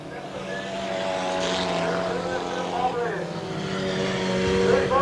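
Hot rod race cars roar around an oval track, engines rising and falling as they pass, with a commentator talking over the racing.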